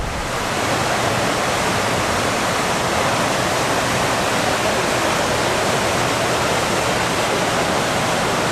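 Ladder Creek Falls in North Cascades National Park, Washington, roars as a loud, steady waterfall, a dense unbroken rush of falling water close by with no voices.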